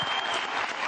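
Brief burst of dense, loud applause from the studio audience of a Turkish television talk show, a steady wash of clapping throughout.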